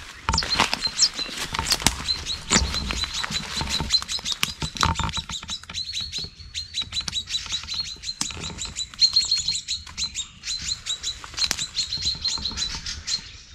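Dense, high-pitched chirping from several chaffinch fledglings, continuous and fairly close, with rapid overlapping peeps and occasional rustling.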